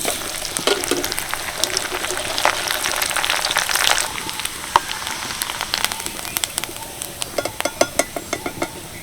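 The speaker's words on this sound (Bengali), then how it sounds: "এবার দেখুন কয়েকটা স্লাইস করা নারকেল নিয়েছি সেগুলোকেও ভেজে নেব" Slices of coconut fry in hot oil for a homemade chanachur snack mix, a close, dense crackling sizzle that thins later into sharp, scattered pops.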